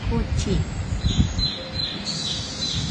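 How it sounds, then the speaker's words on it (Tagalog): Birds chirp in the trees of Fort Kochi, Kerala, in light high tweets over outdoor background noise while someone talks nearby. "Dami ring ibon."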